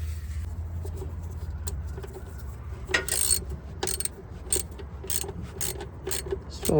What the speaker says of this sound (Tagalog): gamitan natin ng socket wrench na 19